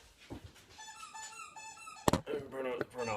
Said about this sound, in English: squeaking his toy